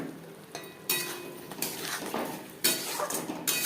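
Potatoes going into spices in a pan for a cabbage curry, a handful of sharp metallic clatters and scrapes in quick irregular bursts, close and clear, with no talking.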